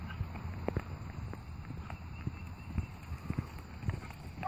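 A horse's hoofbeats in a riding-lesson arena as it trots and canters, a rhythmic, moderately near clip-clop with faint background noise.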